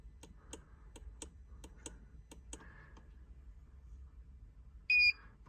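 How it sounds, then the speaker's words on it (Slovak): Faint regular clicks tick along before a short, bright electronic beep near the end from an Igla immobiliser fitted to a Ferrari F8 Spider, close and clear in a quiet interior. "Počujeme dve pípnutia."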